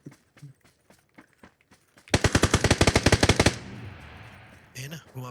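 Rapid automatic gunfire in the video game PUBG on the Sanhok map, a dense burst of about a dozen shots lasting over a second, with scattered faint clicks and footsteps before it and a fading tail after.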